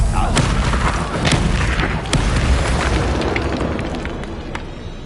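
An Incendio fire spell cast in a wizard video game, a loud deep booming whoosh that fills the whole stretch and slowly fades toward the end, with scattered crackling bursts on top.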